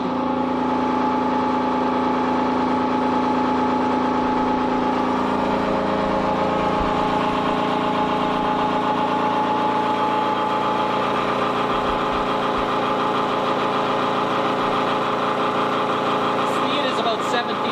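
A wound rotor induction motor runs under load at about 1700 RPM with heavy slip, giving a steady, loud mechanical hum with strong tonal bands that holds constant throughout.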